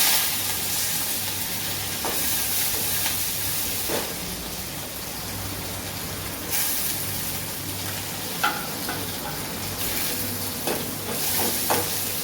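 Onions, cumin and curry leaves fry in oil in a pan, a loud continuous sizzle with crackles and occasional stirring clinks throughout, no speech.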